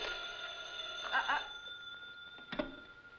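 An old-fashioned telephone rings with an incoming call, one trilling ring and then a shorter burst, clear and close in an office setting from a vintage radio-style drama.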